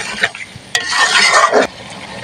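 A spoon stirs curry being fried down in a pan over a short burst, scraping and sizzling loudly and close up, with no voices.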